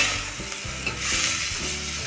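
A spoon or ladle stirs raw mango dal in a pot, making steady wet churning and scraping strokes over a gentle bubbling simmer, close and without voices.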